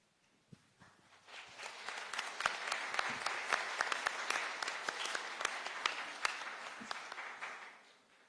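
Audience applause at a book launch on international organizations, a dense wash of clapping that swells after a second, holds steadily for several seconds, then fades out near the end.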